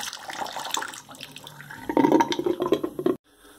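Cold water runs from a shower into a freshly unblocked shower drain, a continuous close splashing rush that grows fuller partway through and then cuts off abruptly near the end.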